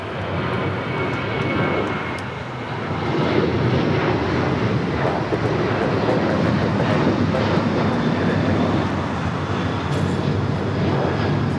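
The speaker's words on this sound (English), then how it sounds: "This one coming in from Chicago O'Hare. This is a 787-9 Dreamliner." A Boeing 787-9 Dreamliner arriving at LAX from Chicago O'Hare makes a loud, sustained broadband jet roar that swells slightly and holds steady throughout, with no talking over it.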